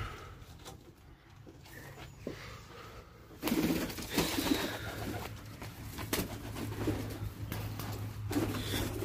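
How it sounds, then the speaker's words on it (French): Pigeons coo softly in a quiet aviary, low murmuring calls repeating over faint background rustling and a steady hum. "Voilà, j'ai des pigeons."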